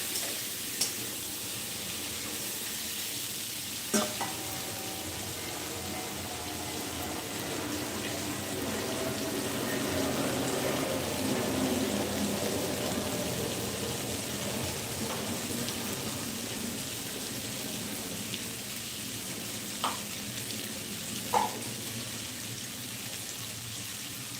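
Rohu fish fries in a pan with a steady, faint hiss and sizzle that swells slightly mid-way, broken by a few sharp spatters and clicks.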